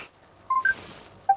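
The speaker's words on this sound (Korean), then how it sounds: "전화." A telephone keypad dialed in a few quick touch-tone beeps, short bright tones spaced unevenly, fairly close and alone against a quiet background.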